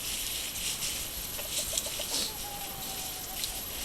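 Chickens in a coop being given fresh bedding, a few soft clucks and short calls at moderate distance over a constant rustling hiss, no talk.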